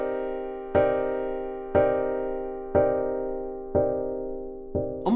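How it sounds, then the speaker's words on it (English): Muffled, low-pass filtered synth tones from Mario game music, sounding as if heard underwater, with a sustained note struck again about once a second and five soft attacks fading between them, with no talking. "It's like putting a sound through a low pass filter."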